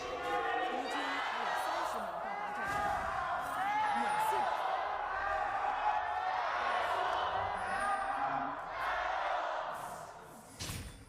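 A crowd fills an esports arena at a League of Legends LPL playoff match, giving a sustained roar of cheering and chanting voices that swells and stays steady throughout.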